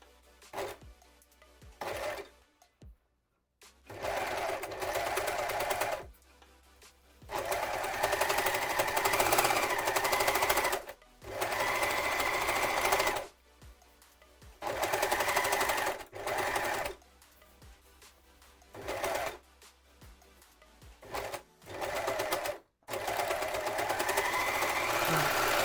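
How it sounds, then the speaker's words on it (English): An overlocker sewing machine finishes a fabric edge in repeated loud bursts of rapid, buzzing stitching, each run stopping briefly before starting again. "I'm gonna overlock the edge."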